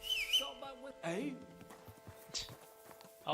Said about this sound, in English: They always get so offended with the whistle.